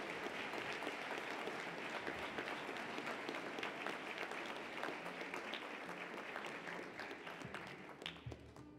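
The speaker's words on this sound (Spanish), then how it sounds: "Vamos a tributar un fuerte aplauso a este grupo de distinguidos funcionarios." Sustained applause from the audience at a ceremony marking an institution's 168th anniversary, honouring officials. The clapping is even, dense and somewhat distant, holding steady for nearly nine seconds before easing off.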